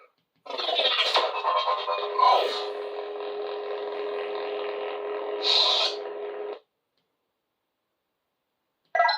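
A Saberspro Rogue lightsaber plays its photon ignition effect: an electronic flare-up settles into a steady buzzing hum with a couple of brighter swells, then cuts off abruptly into silence.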